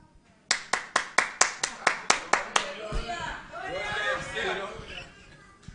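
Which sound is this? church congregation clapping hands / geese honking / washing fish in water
church congregation clapping hands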